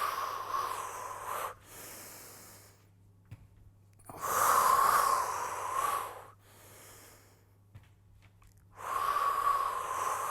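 Heavy, forceful breaths during an abdominal workout, three long loud hissing exhalations close to the mic, separated by quieter pauses for inhaling.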